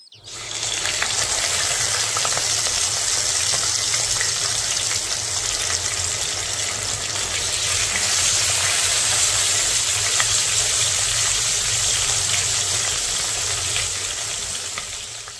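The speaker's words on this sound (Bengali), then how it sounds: "মাছগুলো দুই পাশ ভালোভাবে ভাজা হয়ে গেলে উঠিয়ে নেব" Fish pieces frying in a pan of hot oil for a simple Bengal-style fish curry, a steady, loud, close sizzle and crackle that holds unbroken throughout, with no talking.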